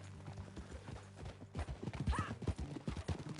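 Horse hooves clip-clop on a hard surface in an uneven walking rhythm, growing louder and closer, with a brief whinny in the middle.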